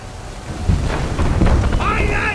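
Stormy sea in Assassin's Creed III, with a dense rumble of wind, rain and rolling thunder filling the scene while a voice talks and shouts over it.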